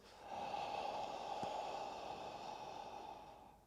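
An inhaled Ujjayi yogic breath, drawn through a slightly constricted throat, makes a smooth, close, airy rasp that swells in and sustains for about three seconds before tapering off.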